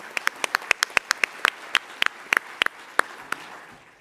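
Scattered applause from a small audience at a tech startup conference stage, sparse distinct hand claps in an irregular patter, fairly close, thinning out toward the end.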